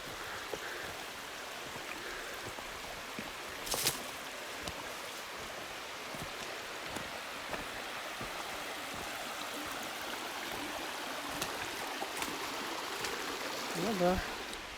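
Steady broadband rush of a waterfall and flowing stream at the Polkovnichyi waterfalls, continuous and fairly loud throughout, with occasional brief splashes and faint voices nearby.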